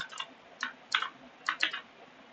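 Python code being typed on a computer keyboard: a few quick clusters of crisp key clicks with short pauses between them, close and fairly quiet.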